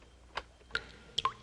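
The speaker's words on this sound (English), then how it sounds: "That's a drip, like out of a tap or a faucet." Water drips from a tap, a few separate drops falling at uneven intervals, quiet and close in a still room.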